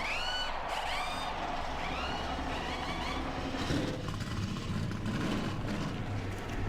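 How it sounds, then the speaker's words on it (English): Racing trucks fire their engines together at the Eldora dirt track before a Truck Series race, a loud, steady, dense rumble of many engines filling the whole stretch. "Drivers, start your engines!"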